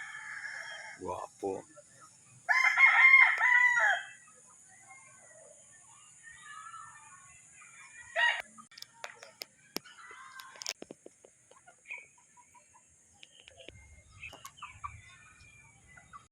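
Straight-breed Mount Banahaw bloodline gamefowl roosters crow in the distance, with several drawn-out calls and some clucking, while someone speaks briefly nearby.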